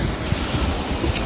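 Strong wind sweeps across open village farmland, a loud, steady broadband rush that buffets the microphone throughout the brief moment.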